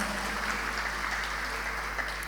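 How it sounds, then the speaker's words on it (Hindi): Applause from an audience during a Jain religious discourse in Delhi: a dense, even patter of many hands clapping at moderate distance, continuous over a low steady hum. "एक बार इसके लिए जोरदार तालियां बजाइए।"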